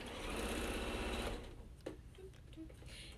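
A sewing machine runs fast and loud, stitching quilt block pieces for a churn dash quilt, then stops abruptly with a few faint clicks and handling noises.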